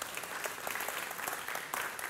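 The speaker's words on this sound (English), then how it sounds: "It's a nice clap." Audience at a music industry talk clapping for the next speaker, a brief dense burst of applause from a moderately sized crowd, fairly soft and continuous.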